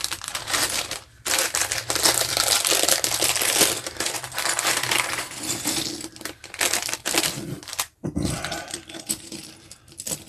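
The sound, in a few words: opening bag of LEGO pieces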